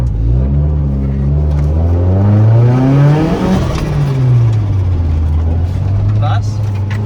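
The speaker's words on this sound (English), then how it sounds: "we're gonna go for a wee drive." A car engine while driving, close and loud, revving smoothly upward in pitch, peaking midway, then easing back down to a steady cruising drone.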